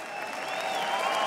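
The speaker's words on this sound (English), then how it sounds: "Everyone in this crowd now, give your homeboy a round of applause because he showed up." A crowd at a professional boxing event, a Shem Rock versus Jan Malach bout, breaks into loud, sustained applause that swells steadily over a brief moment.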